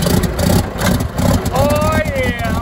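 A farm tractor engine runs with a pulsing, chugging rhythm just after an ether-assisted cold start, loud and close, with a voice talking over it.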